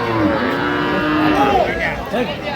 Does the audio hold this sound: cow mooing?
yes